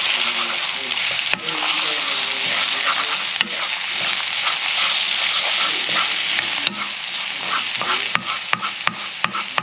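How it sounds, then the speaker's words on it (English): An egg scrambled in a frying pan alongside chicken and tofu, loud continuous sizzling with scattered sharp scrapes and taps of a utensil against the pan, close up. "Scramble it up a bit."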